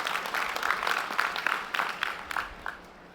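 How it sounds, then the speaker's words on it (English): Graduation crowd at the University of Mississippi commencement applauds with scattered, uneven clapping and a few cheers that taper off toward the end. "you guys should give yourselves a huge round of applause for making it."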